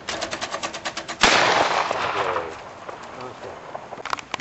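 Savage pump-action shotgun fired at a clay target outdoors, one loud sharp blast with a long fading echo, after a run of rhythmic clicking, and a voice talking faintly nearby.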